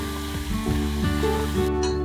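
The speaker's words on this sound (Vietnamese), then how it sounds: "mình cho sả vào chiên vàng lên" Steady oil sizzling as lemongrass fries, continuous and close, with faint tonal hum in the background and no talking.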